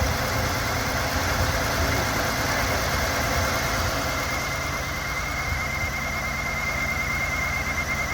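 A Buick Park Avenue's engine idles steadily after its first start in over eight years, a loud, close, continuous rumble with a faint knocking vibration running throughout.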